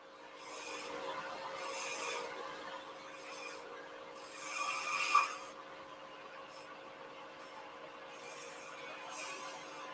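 Woodturning tool cutting a bevel on a spinning piece of wood on a lathe, a continuous soft rasping scrape that swells and fades in waves over a steady motor hum, close and moderately quiet.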